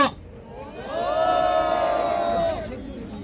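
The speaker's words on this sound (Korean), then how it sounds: "큰 박수로 감사드리겠습니다." A crowd at an elderly citizens' political rally in front of Tapgol Park roars in cheering. A short lull is followed by a sustained, swelling collective shout that holds for about a second and a half, then drops back.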